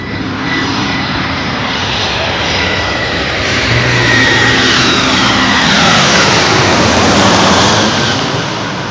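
An airplane flies overhead, a loud, continuous broadband roar that swells slightly and stays strong for the whole stretch with no voices.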